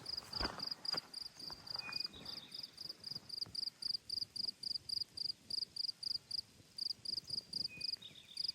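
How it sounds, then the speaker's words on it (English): Crickets chirp on the Appalachian Trail in summer, a steady pulsing trill in quick regular bursts, moderately near and alone, with faint rustling and a few soft thumps underneath. "Crickets."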